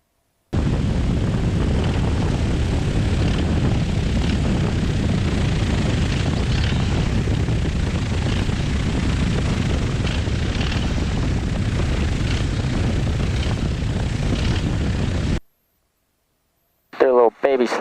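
A light aircraft, the Legend MOAC, drones steadily with engine and propeller noise from inside the cockpit while turning final to land on grass, then cuts off abruptly before a brief burst of voice.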